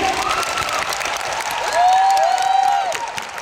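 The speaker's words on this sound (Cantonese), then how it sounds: "想俾啲掌聲嚟聽下先" An audience breaks into loud, continuous applause that swells slightly toward the middle, with some crowd noise and a few tonal sounds above the clapping.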